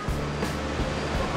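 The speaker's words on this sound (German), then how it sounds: "tobt das Meer." Rough sea surges and washes below the deck of the cruise ship Mein Schiff 4 off Civitavecchia, a loud, brief rush of water noise mixed with wind.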